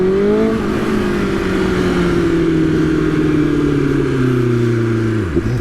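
A BMW S1000RR motorcycle being ridden through a city center, its engine droning loud and close from the rider's position, the pitch sliding slowly down during a long steady pull before dipping sharply at the end.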